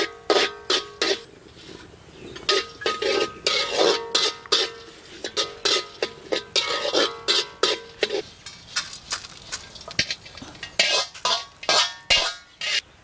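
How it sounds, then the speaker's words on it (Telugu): Fenugreek, coriander and cumin seeds roasting in oil in a pan, heard as rhythmic metal scraping and stirring strokes with crackling sizzle beneath, close and steady throughout. "మెంతులు 1 నిమిషం వేగాక ధనియాలు, జీలకర్ర కూడా వేసుకుని దోరగా వేయించుకుని పక్కకు తీసేసుకుందాం."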